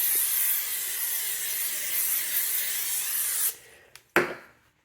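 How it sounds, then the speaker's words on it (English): Non-stick cooking spray is sprayed onto aluminum foil for homemade biscuits: a steady close hiss lasting about three and a half seconds, followed by two brief short bursts. "you want to take your foil and then you want to spray it with non-stick spray"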